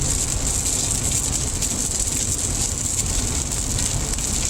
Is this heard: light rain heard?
yes